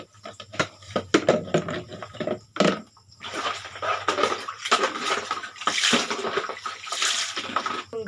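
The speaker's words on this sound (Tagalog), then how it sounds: "Naghuhugas po ako." Dishwashing with running water and soap: splashing, sloshing water and occasional clinks of dishes and utensils in an irregular rhythm, close and moderately loud, with no talking.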